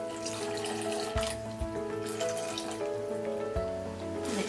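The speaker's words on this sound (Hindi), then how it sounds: "1/4 कप पानी डालेंगे," A quarter cup of water is poured into paneer butter masala as a close, steady splashing trickle, with a few sharp clinks and drips over a soft sizzling background.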